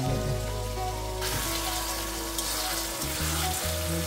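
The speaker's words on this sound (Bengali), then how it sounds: "কারি পাতাগুলো আমি একটু ভেজে নেব" Curry leaves frying in hot oil in a home kitchen, giving a dense, continuous crackling sizzle close by, with a low hum underneath and no voices.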